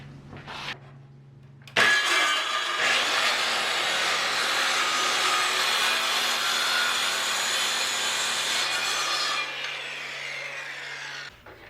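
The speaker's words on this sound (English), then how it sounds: "I used a more common circular saw for this demonstration" A common circular saw cuts through wood, shown as a loud, sustained rasping whine lasting about eight seconds after the blade spins up, then cutting off and winding down, close and alone.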